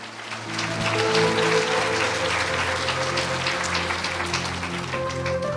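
Church congregation applauds loudly and steadily, a dense wash of clapping sustained throughout, with music or instrument tones running underneath.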